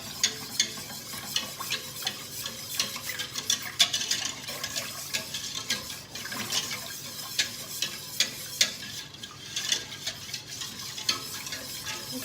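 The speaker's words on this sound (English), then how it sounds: "The whisk breaks up all the lumps, otherwise you'll end up with a big lumpy sauce." A whisk stirs milk into a lumpy sauce in a pan for lasagne, giving steady scraping and swishing with light metallic clinks against the pan and a faint sizzle, close and continuous with no talk.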